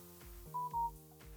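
A phone rings during an indoor recording session, giving two short electronic tones one after the other over a steady background hum, with no talking.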